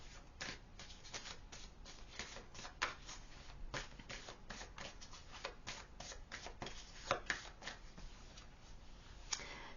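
Tarot cards are shuffled for a card reading in a long run of quick, crisp riffling flutters close to the listener, with no one speaking.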